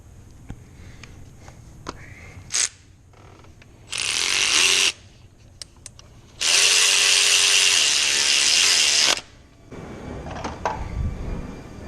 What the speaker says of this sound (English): Three-inch drive ratchet.